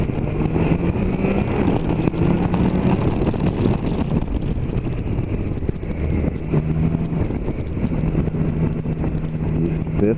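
A Nova Tiger Sport 660 drives over sand, its small engine a steady, close drone. Heavy wind buffeting runs under it for the whole stretch, and there is no break in the sound.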